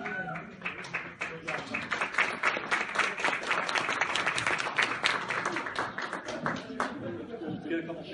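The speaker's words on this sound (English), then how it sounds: "Big round of applause for both these gentlemen." Audience at a bodybuilding competition claps and cheers in a sustained burst of applause that swells and then tapers, dense and fairly near.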